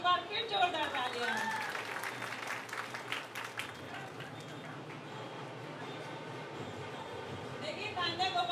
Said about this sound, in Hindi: इन बच्चों के लिए एक बार फिर जोरदार तालियां।